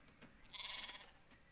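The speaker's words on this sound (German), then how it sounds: "Erstmal die Schafe erschrecken." A sheep in the Star Stable Online video game lets out one short, nasal bleat in the middle of a quiet, otherwise near-silent stretch.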